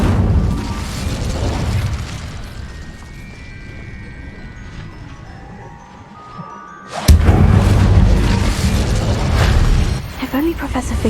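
An Incendio fire spell cast in the Hogwarts Legacy video game erupts with a sudden loud whooshing burst of flame that roars on for several seconds, over a busy layer of game music and effects.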